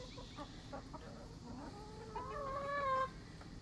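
A backyard chicken flock clucks softly nearby against a quiet background, with one hen rising into a longer, drawn-out call near the end.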